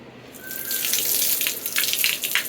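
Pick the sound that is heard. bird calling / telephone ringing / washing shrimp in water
washing shrimp in water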